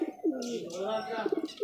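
A desi giribaz pigeon coos and chirps close by in a room, short throaty calls with a voice audible alongside.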